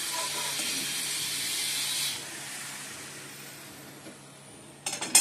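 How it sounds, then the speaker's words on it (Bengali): Brinjal frying in a pan gives a steady broad hiss, strongest for the first two seconds and then settling lower, before a few sharp clatters near the end. "যে বন্ধুরা বেগুন ভাজছি,"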